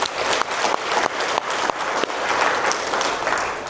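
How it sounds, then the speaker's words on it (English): Audience clapping for a team at a business talk on artificial intelligence, dense and steady throughout with brief surges, filling the room with no speech over it. "Let's give a big round of applause to the whole team."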